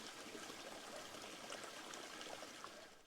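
Clear spring water trickles and burbles steadily on a Dorset walk near Stoke Abbott, a soft continuous babble heard close by and faint, with no talking.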